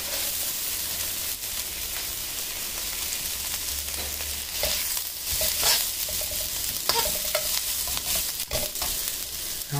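Cooked rice stir-fried with onions in a hot pan for fried rice, a steady sizzle with repeated scraping and tossing of a spatula, getting a little busier toward the end, with no voices.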